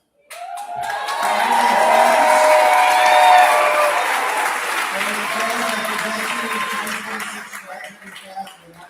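A graduation crowd at Wenatchee Valley College's Omak ceremony bursts into applause and cheering after the tassel turn, swelling quickly, holding strong with whoops and laughter, then thinning toward the end.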